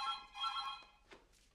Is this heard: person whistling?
no